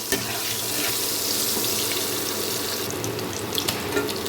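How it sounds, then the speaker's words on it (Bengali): Whole potatoes fry in hot oil for a vegetarian biryani, making a dense, steady hiss that stays close and loud from start to finish with no voices. "এখন আমি এই আলুগুলোকে একটু লাল করে ভেজে নেব।"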